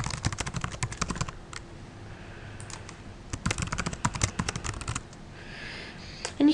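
Quick bursts of clicking keystrokes on a computer keyboard, close and crisp, typing in short runs separated by brief pauses.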